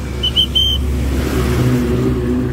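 Cars and other vehicles pass along a road beside a walking pilgrimage procession, giving a steady, loud engine rumble with a brief high squeak near the start.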